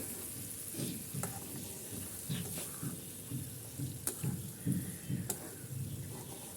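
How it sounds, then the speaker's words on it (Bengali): Soft sizzling under repeated scraping strokes as fish is stirred and turned in a frying pan, with a few sharp utensil clicks. "এরপর মাছটাকে আমি আস্তে আস্তে একটু নেড়ে চেড়ে দেবো"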